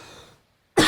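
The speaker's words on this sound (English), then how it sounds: "a little bit of cough here" A single sharp cough bursts out near the end after a soft murmur and a brief silence, loud and close.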